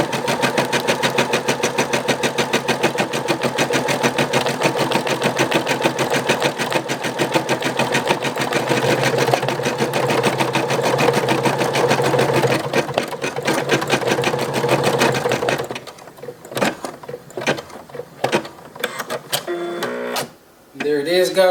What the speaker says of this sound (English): this design says it's going to take about 4 minutes for the 1-inch design to be stitched into the micro mini hoop right here